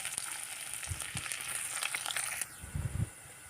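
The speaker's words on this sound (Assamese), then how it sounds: "পিঁয়াজখিনি ৰঙচুৱাকৈ ভাজি লোৱাৰ পাছতে" Onions frying in a little oil with panch phoron in a hot kadai, a continuous close sizzle with crackling bursts and a few stirring scrapes and knocks near the end.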